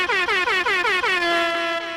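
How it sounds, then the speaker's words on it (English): A loud air horn sound effect blasts in a rapid series of short, sharp honks, then holds one sustained note that fades slightly at the end. "But the air horns work too."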